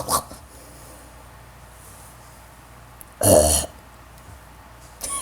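A short, loud, gurgly dog burp in the video game Dream Again World sounds once amid quiet background hum, with a faint noise at the start and end.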